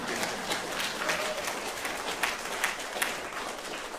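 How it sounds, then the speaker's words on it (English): An audience at a public talk applauds, a steady wash of many hands clapping at moderate loudness with scattered sharper claps, sustained for several seconds. "It's okay if you clap now."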